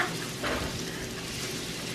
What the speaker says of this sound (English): sauteing the garlic, onion, and the carrots